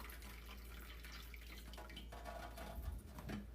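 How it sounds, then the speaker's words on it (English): Red-dyed water draining out of a cooking pot into a kitchen sink, a soft steady pour and splash that swells slightly near the end, with no voices. "now I need to drain this without splashing red dye all over my kitchen"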